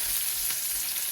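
Onions, garlic and ginger sautéing in a pan, giving a steady, close sizzle with a soft crackle that holds evenly throughout, with no voices over it.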